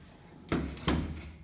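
A hardtop door on a Jeep CJ5 is pushed shut, giving two quick solid thunks about a third of a second apart, close and moderately loud.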